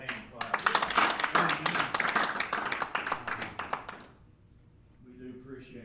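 Church congregation hand clapping, a burst of quick overlapping claps with voices mixed in, fading out abruptly after about four seconds into quiet murmuring.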